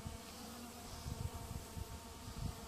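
Honey bees hum steadily from an open hive, a dense, even drone of many wings that stays low in level and close throughout, with no voices.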